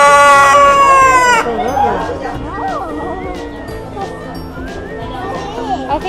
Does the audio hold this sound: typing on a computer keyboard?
no